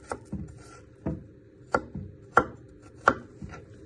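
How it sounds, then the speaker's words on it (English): A knife presses down and slices through food on a chopping board for a prawn and chickpea pie, making five or six distinct close knocks at a slow, uneven pace with short gaps between them. "Then you place your knife on top, pressing down. Then you slice it."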